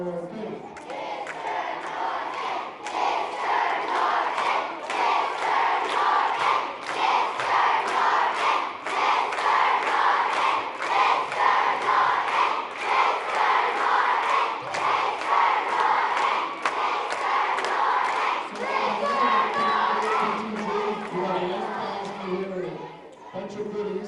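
A gym full of school children shouts a rhythmic cheer together, loud and sustained for over twenty seconds, with crowd chatter mixed in before it fades at the end.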